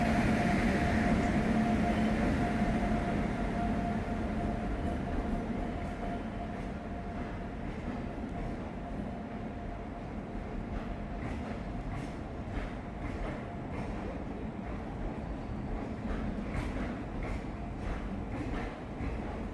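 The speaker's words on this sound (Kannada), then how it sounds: "ವ್ಯಾಪ್ 7 ಲೋಕ ಜೊತೆ ನಮ್ಮ ಟ್ರೈನ್ ಬರ್ತಿದೆ" A passenger train hauled by a WAP-7 electric locomotive rolls in, its wheels rumbling steadily with light rhythmic clatter, loud at first and easing slightly as it slows.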